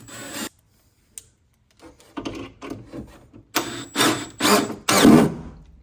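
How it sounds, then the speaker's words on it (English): Milwaukee drill boring through plywood into an oak spacer block, heard as several short bursts that grow longer and louder toward the end, separated by brief pauses, close up with no talking. "we're drilling into the actual plywood in the back"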